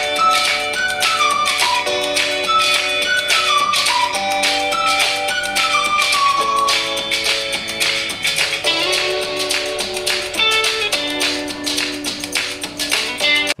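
Music plays through the stereo speakers of a Poco M4 Pro phone, with the main speaker on the bottom edge and a second on the top. The sound is full and steady at a constant loud level, with no voices.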